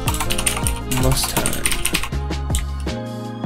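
Rapid clattering keystrokes on a computer keyboard while coding in Python, loud and close, in quick bursts with short pauses, as a voice speaks briefly.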